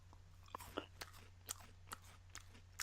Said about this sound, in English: I don't know if the chewing that you can hear on the audio imparts that